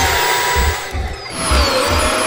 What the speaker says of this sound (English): let's take it out with the vacuum.